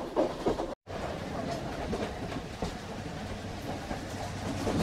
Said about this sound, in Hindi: इस वक्त ट्रेन में साउंड बहुत ज़्यादा है